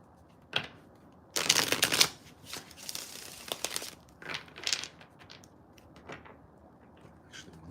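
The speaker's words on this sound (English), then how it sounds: "I'm gonna shuffle it one more time." A deck of tarot cards being shuffled by hand, with a few short riffling bursts and a longer dense flurry of card slaps and flutters, close and fairly quiet in a still room.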